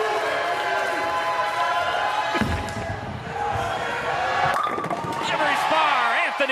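A bowling ball strike scattering pins at a televised bowling match, a sudden crash of pins mid-clip followed by crowd cheering and applause, with a commentator talking over it throughout.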